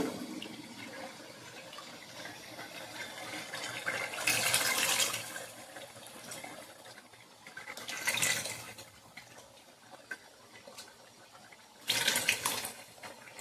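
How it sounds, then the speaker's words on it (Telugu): Tamarind juice is poured into a village-style spotted snakehead fish curry in three separate splashing bursts of liquid over a steady low background hiss, with no talking. "ఇప్పుడు ఇందులో చింతపండు పులుసు అయితే పోస్తానండి"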